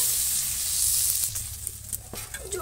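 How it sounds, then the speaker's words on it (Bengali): Spices frying in oil in a pan while a dish of ol (elephant foot yam) is being cooked, giving a steady, close, bright sizzling hiss with a few soft stirring scrapes and no talk. "মশলা দিয়ে কষাচ্ছি"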